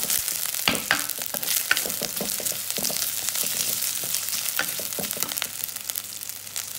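Carrots sizzle and fry in a pan while being stirred for pasta. A steady, loud crackle runs throughout, broken by repeated close scraping strokes of the spoon, with no voices.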